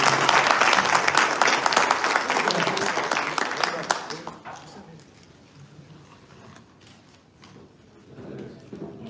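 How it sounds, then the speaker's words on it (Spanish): An audience applauds at the opening of a labour law conference, with dense, loud clapping for about four seconds that then thins into scattered claps and fades as a speaker begins talking. "ya les pido un fuerte aplauso para él"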